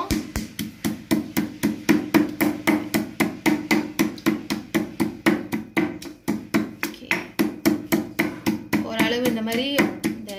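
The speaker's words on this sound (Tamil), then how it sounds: "இப்படி தான் நம்ம இடி கல்லில் இடிக்க போகிறோம்." Small chillies and garlic are pounded in a stone mortar, a loud, steady run of heavy thuds at about three strikes per second, close up, with a person starting to speak near the end.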